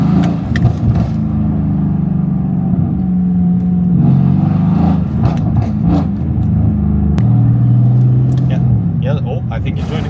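Mercedes-AMG exhaust crackling with pops and bangs on a Central London street, heard as a loud close engine rumble with revving and sharp bursts, while people talk over it.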